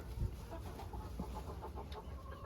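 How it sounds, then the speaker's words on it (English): Soft, low clucks from several chickens in a coop murmur close by over a steady background hum, with no talking. "the chickens in this coop unanimously decided to take a dust bath"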